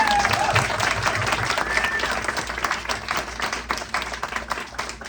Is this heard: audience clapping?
yes